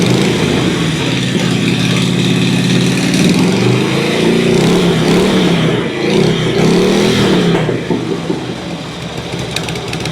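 Harley-Davidson Twin Cam motorcycle engine, just fitted with new cam tensioners and cam bearings, revs loudly under throttle: a close, throaty, continuous roar rising and falling in pitch with several blips across the stretch, with no talk.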